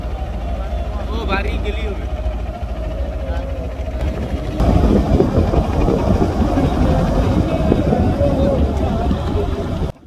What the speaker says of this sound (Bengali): আমাদের ক্যাপ্টেন ব্যাপক চেষ্টা করতেছে এই বালি থেকে সরানোর ট্রলারটা।